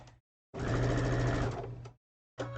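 A sewing machine puts a few stitches into quilt seams: a short whir, a pause, then a steady close run of about a second and a half, then a brief restart. No one speaks.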